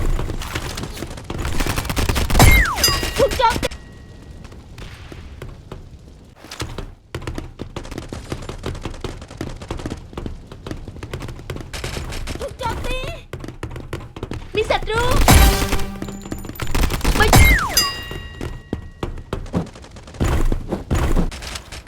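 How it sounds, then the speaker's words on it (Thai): Rapid gunfire bursts from a gun duel mode in the Mini World Royale video game, loud and repeated across the clip, with sharper flurries near the middle and end, mixed with game voice prompts. "มีคนยิงฉันอยู่ ฉันบาดเจ็บแล้ว"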